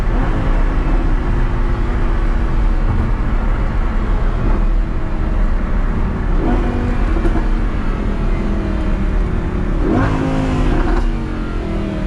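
Lamborghini Huracan LP580-2 engine roaring steadily at high revs while the wheels spin in fourth gear, loud and continuous from inside the car.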